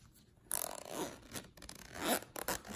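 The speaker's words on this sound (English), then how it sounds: "The zipper is very smooth" The zipper of a Hermès Silk'in compact wallet with silver hardware is drawn open in a close, crisp zipping sweep, followed by a few shorter rasping pulls.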